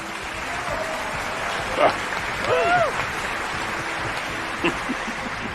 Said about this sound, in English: Thanks for the applause, everybody.